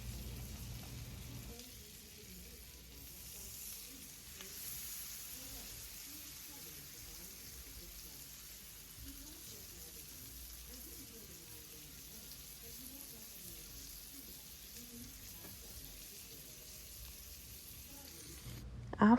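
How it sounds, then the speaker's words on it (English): Pieces of salmon sear skin side up in melted garlic herb butter in a pan for Tuscan salmon, giving a steady, moderately quiet sizzle that runs throughout with faint clinks and a sharp knock at the end. "once that butter has melted, we're going to start by going in with our pieces of salmon, and I'm doing it skin side up"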